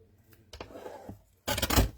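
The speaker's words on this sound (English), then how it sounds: "I'm going to cut this" Scissors or a trimmer cut through card stock for card making, a few scattered snips and rustles followed by a louder, dense crunching cut near the end, close by and with no talk.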